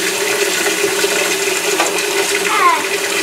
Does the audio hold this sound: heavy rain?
no